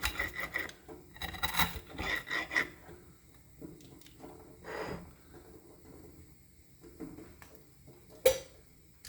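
A knife saws through crunchy mint toast in short, dry, rasping bursts, with scattered crackles and a sharper crunch near the end, all fairly faint and close.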